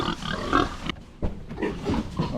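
Pigs in a pen at the Pennsylvania Farm Show grunt and snuffle close by in a short, uneven burst with a brief pause in the middle.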